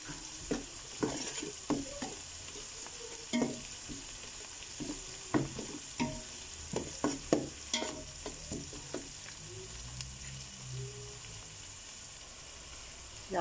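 Onions frying in a pan for a South Indian fish curry, stirred with a utensil: soft repeated scrapes and taps over a low, steady background sizzle, fairly quiet throughout.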